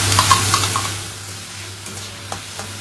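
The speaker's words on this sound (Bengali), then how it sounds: "ওই একই তেলে আগে থেকে কুচিয়ে রাখা পেঁয়াজ, রসুন, টমেটো আর কাঁচা লঙ্কা দিয়ে দেওয়া হলো" Chopped onion, garlic, tomato and green chilli hit hot oil already used for frying potato pieces, giving a steady close sizzle with light stirring scrapes and a few clinks, no voices.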